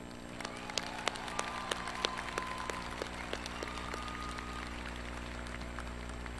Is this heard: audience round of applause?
yes